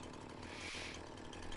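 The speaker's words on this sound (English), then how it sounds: "Now I have a chainsaw on me." A chainsaw in Farming Simulator 19 runs with a steady, continuous mechanical drone and a bright buzzing edge, holding a fairly even level throughout at moderate volume.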